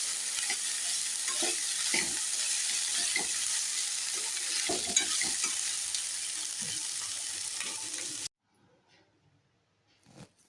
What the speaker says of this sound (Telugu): ఇప్పుడు అదే ఆయిల్లో కొంచెం ఆయిల్ వేసి అల్లం వేయించుకున్నాను